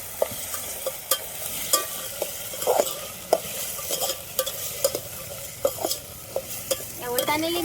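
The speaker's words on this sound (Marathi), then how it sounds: "आता टाकून घेऊ याच्यात आपण धुतलेले वटाणे आणि मस्त परतून घेऊ." Washed green peas stirred and fried with garlic in hot oil, giving a steady soft sizzle broken by repeated scraping and stirring clicks throughout, close up with no talking.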